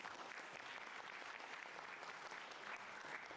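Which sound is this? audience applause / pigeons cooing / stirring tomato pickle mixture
audience applause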